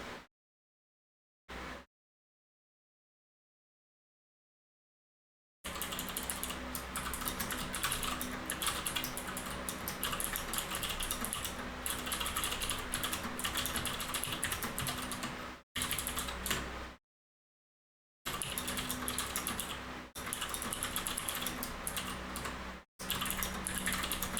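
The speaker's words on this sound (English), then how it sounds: "Aggressively typing." Rapid, forceful typing on a computer keyboard, dense clattering keystrokes in long bursts separated by brief gaps of silence, close and fairly quiet.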